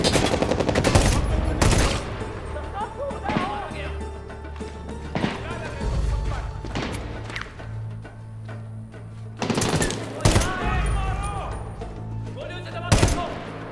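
Gunfire in the shooter video game Medal of Honor: Warfighter during a chase, with loud bursts of shots and impacts scattered across the clip, mixed with game sound and a player talking.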